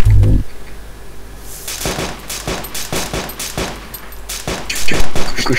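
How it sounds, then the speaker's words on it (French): Gunfire in the video game Arma 2: a sustained string of sharp shots, some single and some in quick clusters, rattling irregularly at moderate distance with echoing tails, loudest toward the end. "on me tire dessus"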